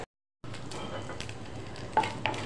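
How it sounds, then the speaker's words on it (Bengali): Bottle gourd stirred and fried in a pan: a soft steady sizzle with scraping stir strokes and a couple of sharper utensil clinks near the end, after a short silent start. "লাউটাকে সুন্দর করে নেড়ে চেড়ে কষাই নেব"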